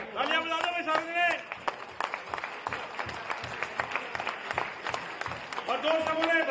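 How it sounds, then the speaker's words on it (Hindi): An audience at a public welcome for Haryana's chief minister breaks into applause, with many hands clapping in an uneven patter under talk and brief sung or called-out voices at the start and end. "तालियां बजा दो भाई सामने"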